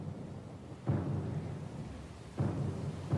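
Two heavy thunder rumbles roll through a stormy sea scene in Pillars of Eternity II: Deadfire, each striking suddenly and then trailing off into a low, rumbling bed of storm noise.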